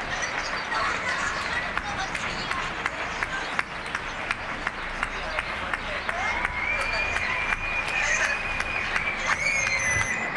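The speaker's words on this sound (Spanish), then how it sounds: "La mamá aplaudiendo." Scattered clapping from neighbours on their balconies, a steady patter of applause with sharp individual claps, with a siren wailing faintly in the distance and voices chatting nearby.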